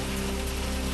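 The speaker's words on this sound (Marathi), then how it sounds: "जोरदार वाऱ्यासह मुसळधार पावसाची हजेरी" Heavy rain falls during a storm in the Igatpuri area, a dense, even roar of drops hitting surfaces heard alone for about a second at steady loudness.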